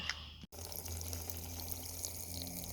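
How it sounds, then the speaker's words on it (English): Water pours steadily from a tap into a container during handmade soap making, a continuous close splashing rush with a brief break near the start. "Add some water to it now."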